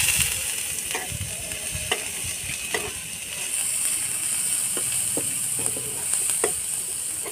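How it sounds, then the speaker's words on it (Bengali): Thinly sliced onions frying in oil in a frying pan for egg dopiaza: a continuous bright, close sizzle with occasional spatula taps and scrapes, steady and moderately loud, with no speech. "ঝিরি ঝিরি করা পেঁয়াজটা দিয়ে দেবো তেলে।"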